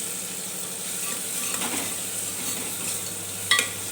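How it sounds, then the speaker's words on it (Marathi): A soft, steady sizzle of onions frying on low heat, with light scraping stirs and a single sharp metallic clink near the end. "कमी गॅसवरच आपल्याला कांदा आहे तो छान असा भाजून घ्यायचा आहे"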